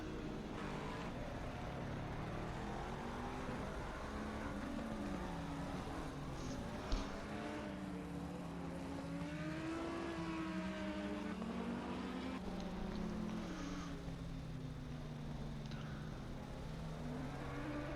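Race cars circle the Paul Ricard track in a racing video game, their engines droning and sweeping up and down in pitch as several cars pass and rev together, with a steady background hum.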